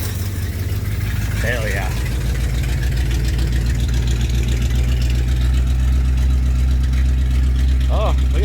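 A 1962 Pontiac Grand Prix 389 V8 with a four-speed, fired up after twenty years of sitting, rumbles at a steady loud idle throughout, with a man briefly exclaiming over it.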